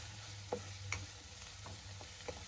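Onions frying in a pan for a fish curry, a steady low sizzle with a few sharp clinks of a spoon stirring against the pan.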